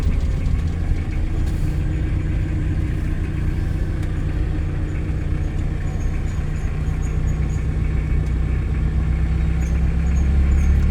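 A car rolls along at moderate speed on a driving-school lesson, its engine a steady close hum with constant road rumble throughout, no voices heard.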